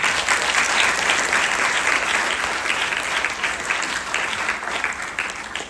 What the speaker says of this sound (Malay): Mari beri tepukan gemuruh.